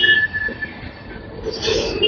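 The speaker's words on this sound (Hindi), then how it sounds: "और ये आ गई है स्वतंत्रता सेनानी एक्सप्रेस।" The Swatantrata Senani Express pulls into a station with a loud, sustained metallic squeal of train wheels and rumbling railcars close by, the screech rising again toward the end.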